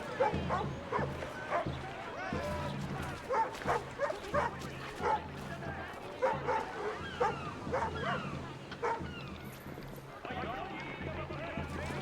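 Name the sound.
dogs barking in video game Assassin's Creed 3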